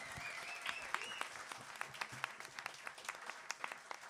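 A hall audience at a battle-of-the-bands show claps in a brief, moderate round of applause, with distinct individual claps standing out and a voice briefly audible over it.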